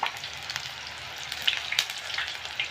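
Badam puri frying slowly in oil over a low flame gives a quiet, even sizzle scattered with small crackling pops.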